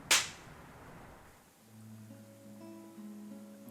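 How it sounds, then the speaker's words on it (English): A sharp, loud slap across the face cracks once at the very start, then fades into a quiet room where low sustained tones linger. "she lifts a hand and slaps me right across the face"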